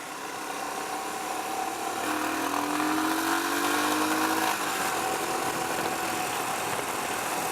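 A Royal Enfield Himalayan motorcycle engine revs up under hard throttle on a highway merge, a rising tone climbing over about two seconds above steady road and wind roar, then settling back to a steady drone.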